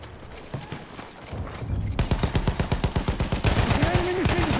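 An MG15 machine gun fires in Battlefield 1, starting as a rapid, evenly spaced rattle of loud shots after a quieter opening and continuing for over two seconds, with extra battle noise layered in toward the end.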